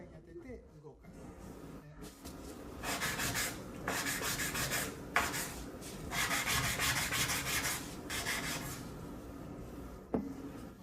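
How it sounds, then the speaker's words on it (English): Sandpaper works the edges of a circular wooden xylophone, sanding at an angle in repeated rhythmic strokes. Each pass is a close, raspy scrape lasting a second or two, with brief pauses between them. "For the rounding I mentioned earlier, sand at an angle of about 45 degrees."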